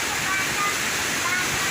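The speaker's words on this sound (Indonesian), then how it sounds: "ini bentar lagi nyampe di air terjun Sipiso-piso. Air terjunnya tinggi kali." Roaring water at the Sipiso-piso waterfall in North Sumatra, a very tall falls, heard as a steady broadband rush that fills the whole clip at even loudness, with no clear voices over it.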